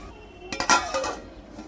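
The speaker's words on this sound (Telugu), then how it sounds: "ఇప్పుడు ఇవన్నీ మసలేదాకా ఒకసారి మూత పెట్టేద్దాం" A lid goes onto a cooking pot of prawn biryani in a single close metallic clatter with a brief ringing clink, framed by quiet kitchen background.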